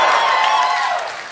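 Live audience at a comedy podcast taping in Melbourne breaking into applause, a dense wash of clapping from a crowd that stays loud, then tapers off slightly toward the end.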